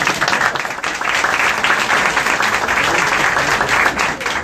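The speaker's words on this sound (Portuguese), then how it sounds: "Se vocês puderem aplaudir" Audience applause fills a Brazilian talk session with a newspaper columnist, a steady dense wash of many hands clapping at close range throughout, with no speech over it.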